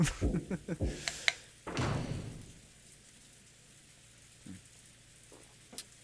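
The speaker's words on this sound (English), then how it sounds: "There was a knock on the door, and Kenji-san entered." A knock on a door in the visual novel Umineko: When They Cry, a quick series of hollow raps near the start, followed by a dull thud and then mostly quiet room tone.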